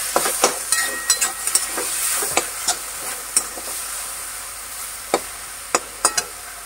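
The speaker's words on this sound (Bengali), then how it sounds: "একটুখানি নাড়াচাড়া দিয়ে দেবো।" Greens sizzling in a frying pan are stirred, a steady hiss of frying broken by repeated sharp scrapes and clinks of the spoon against the pan.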